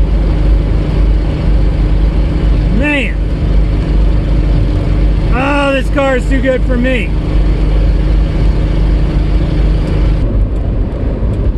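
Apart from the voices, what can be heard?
1977 Datsun A10 wagon engine during test drive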